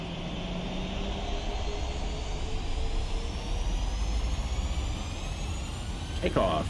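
PMDG airliner engines spool up for a takeoff roll from Seattle in the Prepar3D v5.4 flight simulator, a loud continuous roar with a rising whine, and a short sharp burst comes near the end.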